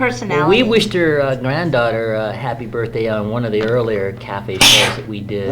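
A single sharp sneeze bursts out near the end amid ongoing conversation, with several people talking before and around it on a casual online cafe-style chat show.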